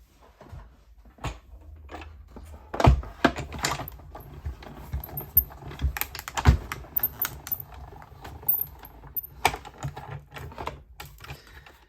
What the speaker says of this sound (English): All right, and then we're going to die cut this.